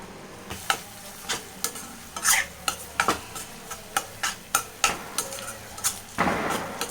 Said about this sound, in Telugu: ఇప్పుడు లాస్ట్లో టమాటో కూడా వేసేసుకొని ఫ్రై చేసుకుందాం